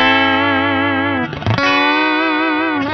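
An electric guitar played through an Origin Effects SlideRIG Compact pedal sustains a thick, compressed, slightly distorted tone with a gentle chorus-like wobble, briefly changing pitch in the middle before ringing on, loud and close.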